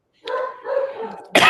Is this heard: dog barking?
yes